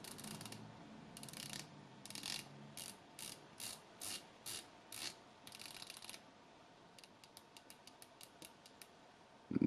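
A ROIH Shek-o-matic titanium skin diver watch bezel turns through its 120-click ratchet, making short bursts of crisp, soft clicking in an even rhythm, then a faster run of lighter ticks, very close and quiet with no talk.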